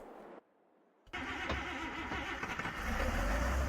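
An old white tractor in Farming Simulator 22 cranks briefly and then catches, settling into a loud, steady, low engine rumble that swells toward the end.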